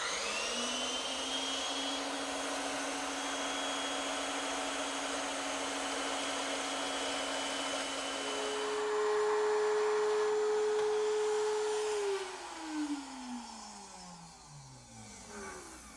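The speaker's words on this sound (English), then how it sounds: "I'll just hold a couple pieces together and cut them on the bandsaw" A bandsaw hums steadily while cutting half-inch wooden wedge stock, a couple of pieces held together, with the pitch sustained close by. Near the end the motor whines higher, then spins down with a falling tone, and there is no speech.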